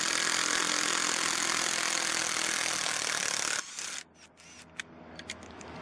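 A Dewalt 12V impact driver on low mode removing screws, heard as a loud, continuous buzzing hammer rattle for several seconds that stops abruptly, followed by a few faint clicks and light handling noises.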